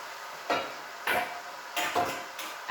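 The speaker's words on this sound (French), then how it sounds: "Et donc là, ça va mijoter." Tomatoes, a kilogram of them, cooking in a pan for courgette lasagna, with four distinct scraping stirs against the pan over a soft steady bubbling simmer, close by and without talk.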